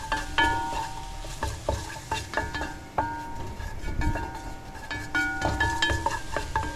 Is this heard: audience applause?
no